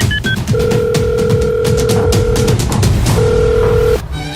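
A telephone rings in two long electronic bursts with a short gap, loud and close, over a busy background of noise and faint chatter.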